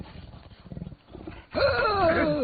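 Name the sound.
tiger roaring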